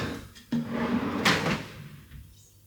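Custom handmade wooden cabinet door being worked open and shut, a sharp knock as it seats followed by a scraping, rubbing slide and a second bump, close and fairly loud with no talking.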